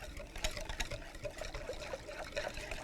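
Very hot but not boiling water in a bowl being whisked with gelatin mixture for a giant gummy candy, giving a steady, close liquid swishing and trickling with faint clinks throughout, no talk.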